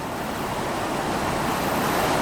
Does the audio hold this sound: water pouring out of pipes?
yes